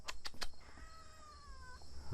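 A cat lets out one long, drawn-out meow that rises and then trails off, fairly close. A few sharp clicks come just before it over a quiet background.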